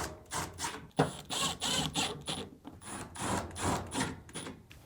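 Screws being driven into a dryer lint duct, with a run of short rasping, grinding bursts in an uneven rhythm, close and fairly quiet, with a sharper knock near the start.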